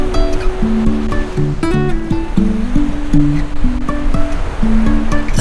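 Steady wash of surf rolling in, heard under a prominent melodic tune that plays throughout.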